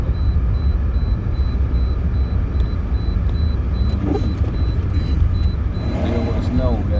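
A Toyota Corolla drives through a March snowstorm in Southeastern Kentucky, its engine and tyres making a steady, close rumble on the snowy road. Someone talks over it throughout.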